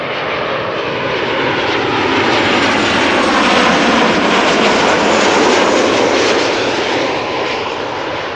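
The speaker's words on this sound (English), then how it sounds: "KLM Flight 938 arriving from Glasgow" A KLM Boeing 737-800 arriving at Amsterdam Schiphol from Glasgow roars loudly overhead, its jet engine noise swelling to a peak midway and then easing as it passes, with no voices.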